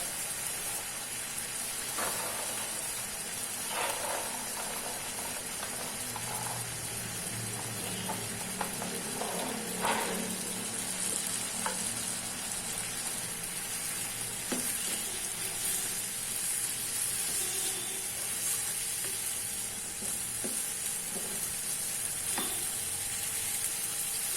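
Chicken with chopped carrots and peas frying in a pan, giving a constant close sizzle with occasional clicks and stirring scrapes throughout, no one speaking.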